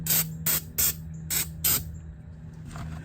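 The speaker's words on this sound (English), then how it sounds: "Now we're going to go ahead and take some brake cleaner." Brake cleaner sprayed from an aerosol can in five short, sharp bursts of loud hiss in quick succession, followed by a fainter trailing spray, over a low background hum.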